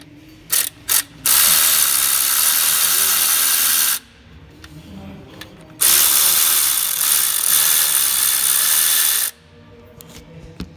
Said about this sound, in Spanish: Y vamos a iniciar a quitar los dos tornillos del tensor.